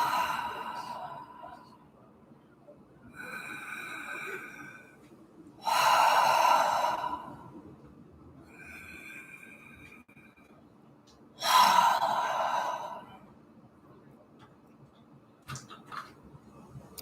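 Three deep cleansing breaths, each drawn in and pushed out through the mouth, rise as slow airy swells separated by quiet pauses. The second and third exhales are the loudest and closest.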